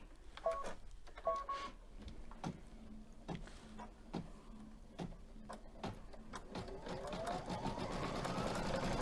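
An embroidery machine stitches a tag on felt, its needle hammering in a fast, regular rhythm of sharp taps close by, with a whirring motor tone rising toward the end.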